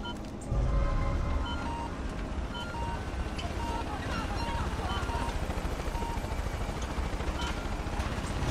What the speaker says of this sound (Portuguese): Aqui é um helicóptero.